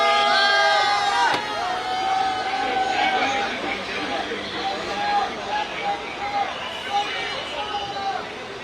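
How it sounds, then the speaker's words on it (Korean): A large outdoor rally crowd protesting the Fukushima wastewater release cheers and applauds, a dense roar of many voices with scattered shouts that stays steady and fairly loud throughout. "박수 모시겠습니다."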